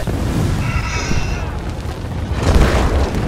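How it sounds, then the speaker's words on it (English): A trebuchet shot lands with a deep, rumbling boom during a PvP tower defense in the Elder Scrolls Online video game. It comes in loud and close amid ongoing battle noise, with a second heavy impact swelling near the end. "No, trebuchet shot."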